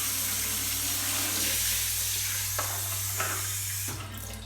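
Simulated rain falls on a shelter, a steady hissing spray of falling water, loud and continuous, over a low electrical hum, with a few soft thuds before it changes tone near the end.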